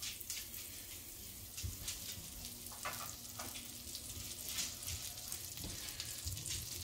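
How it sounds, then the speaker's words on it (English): Previously frozen eggs fry in a pan, giving a continuous close sizzle with scattered crackles and a few light clinks, without any voices. "let's just see what happens if we try to fry a couple up"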